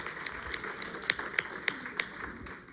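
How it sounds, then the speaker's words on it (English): Scattered audience members clap after a speaker's prompt at a talk, a thin patter of applause with a handful of sharper individual claps standing out, moderately close and without speech over it. "Round of applause."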